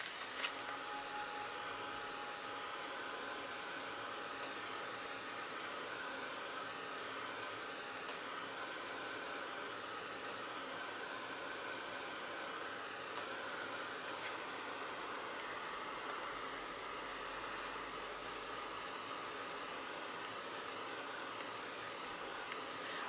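A dryer blows a steady, even rush of air over a wet distressed paper craft tag, unbroken and constant throughout with no talking.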